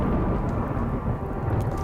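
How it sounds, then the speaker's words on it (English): Deep, continuous rumbling thunder from a dry thunderstorm in modded RimWorld rolls steadily with no breaks, a dense low roar like a storm overhead. "There's a dry thunderstorm happening outside"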